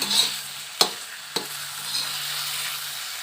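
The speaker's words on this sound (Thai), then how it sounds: "ก็ผัดค่ะ ผัดให้มันสุกนะคะ" Food stir-fries in a hot pan with a constant close sizzle, broken by a couple of sharp scraping knocks from the spatula.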